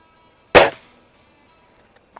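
A Beeman RS2 dual-caliber air rifle fires a pellet in a single sharp, loud crack that decays quickly, followed by near silence and a couple of faint ticks.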